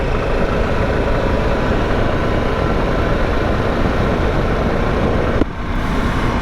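Tyres of a 2022/2023 Harley-Davidson Pan America motorcycle roar loudly and steadily while riding on the road, a continuous broad rumble that dips briefly near the end.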